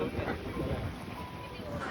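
Strong sea wind buffets the microphone near Suvarnadurg fort off the coast, a loud rumbling roar with gusty low-end thumps throughout.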